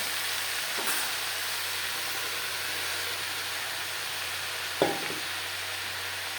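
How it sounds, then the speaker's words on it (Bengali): Radish greens and eggplant cooking in a pan produce a constant soft hiss of frying, with two brief scraping stirs, near and moderately quiet. "বেগুনের সাথে শাক বেশ ভালো করে মিক্স করে দেবেন"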